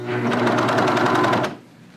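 A sewing machine runs a quick steady burst of stitching around a pant leg, a close rapid rhythmic whir that stops abruptly after about a second and a half.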